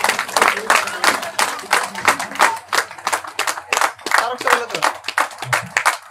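An audience at a yoga academy success event claps in a burst of applause, quick rhythmic hand claps close by, mixed with people speaking over them.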